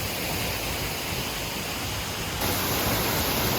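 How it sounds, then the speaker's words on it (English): A large waterfall in Vietnam pours in a dense, steady roar of rushing water, loud and constant throughout with no voices. "we made it to that magnificent waterfall."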